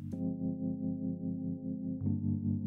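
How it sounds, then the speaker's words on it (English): Synth tone run through a reverb effect in Bitwig, a sustained harmonic note with a smeared, effected tail that shifts once near the end, heard alone without talk. "I want to add, for example, a reverb"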